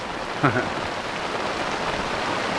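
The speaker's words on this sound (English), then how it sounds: "We're just getting the first, well, the biggest wave of rain so far." Heavy rain pours steadily during a nasty lightning storm, a dense continuous hiss throughout with a brief faint voice early on.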